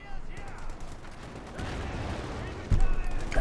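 Machine gun fire in the real-time strategy game Company of Heroes 2, rattling in rapid bursts under steady battle noise, with a heavier hit near the end.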